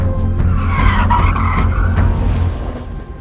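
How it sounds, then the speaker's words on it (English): A Ferrari 849 Testarossa slides on a race track, tyres squealing loudly and continuously while the engine revs hard and shifts up mid-slide, close and dominant throughout. "You know it's good when you're changing up halfway through a slide."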